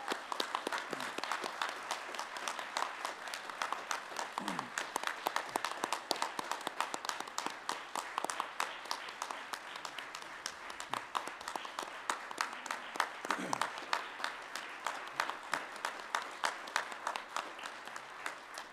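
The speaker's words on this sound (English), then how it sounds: "Would you give Pastor Crum another round of applause?" Congregation applauding a pastor during a church worship service, sustained steady clapping from many hands that continues at an even level for the full stretch, with a few faint voices mixed in.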